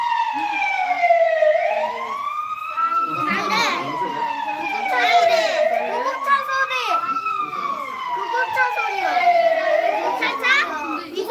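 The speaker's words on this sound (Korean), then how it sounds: "네, 사이렌이에요." A wailing emergency siren sounds during a children's sound-guessing game at a church service, rising and falling in long sweeping cycles, loud and steady, with children's voices chattering faintly underneath.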